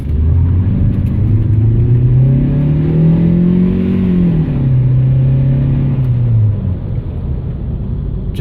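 A stock Ford Fiesta engine, heard from inside the car, rises from a loud droning rev and holds there, then eases off, a continuous close rumble throughout.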